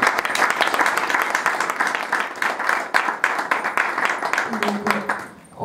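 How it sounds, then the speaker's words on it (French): Applause for Madame Fatou Elonga, founder of a women's union, at a Capricorn birthday gathering: sustained, lively clapping from a crowd for several seconds, with a voice heard briefly near the end. "Madame Fatou Elonga. On l'applaudit."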